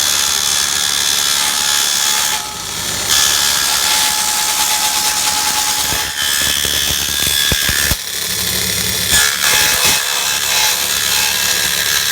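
A table saw rips a thin strip of aluminum, a steady loud whining cut running nearly throughout with brief dips and rough chatter near the end.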